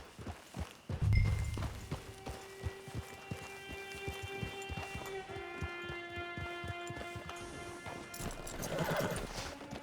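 A horse in Red Dead Online walks with steady clip-clop hoofbeats, then lets out a long, loud whinnying neigh that trails off, followed by a snort.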